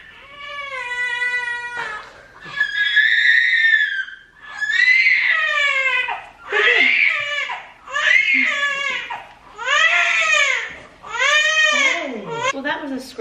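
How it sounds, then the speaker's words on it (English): A baby lets out a run of loud, close, high-pitched screaming cries in repeated long bursts with brief gaps for breath, as though in a night terror. "Well, that was a scream we've never heard before."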